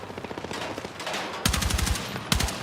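AK 205 assault rifle fire from Battlefield 6: a quieter distant rattle of automatic shots, then two loud close bursts of rapid rounds, the second short.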